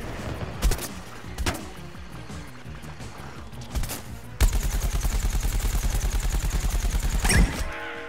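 A corn barrage strike pounds down in Plants vs. Zombies Garden Warfare: scattered sharp blasts first, then a loud rapid run of repeated impacts for about three seconds, ending in a heavy final hit.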